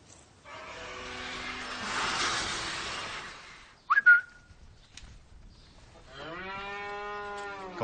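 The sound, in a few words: person whistling to cattle on a farm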